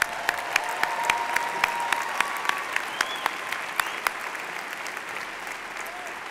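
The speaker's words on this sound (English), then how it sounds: "Let's give him another round of applause." Commencement audience applauding steadily in a large hall, a dense wash of clapping with a few loud, sharp claps standing out near the listener, holding level throughout.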